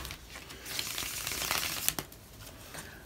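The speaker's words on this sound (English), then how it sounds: "One more shuffle, Taurus, and we're good to go." Tarot cards being shuffled by hand, a soft riffling rustle that builds and ends in a couple of sharp snaps, close and fairly quiet with no talk.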